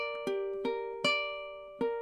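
A ukulele plays a fingerstyle melody: four clear plucked notes ring close and alone at an unhurried, slightly uneven pace, each one left to sustain into the next.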